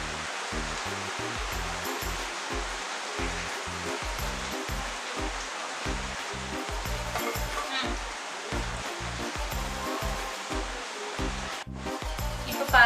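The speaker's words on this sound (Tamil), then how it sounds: "இப்போ நல்லா இந்த ஆயிலே வதங்கிறதுக்காண்டி நல்லா கிண்டி விட்டுருங்க." A pickle mixture is stirred and sautéed in hot oil, giving a steady close sizzle with a fast rhythmic patter of spoon strokes and scraping and a brief pause near the end.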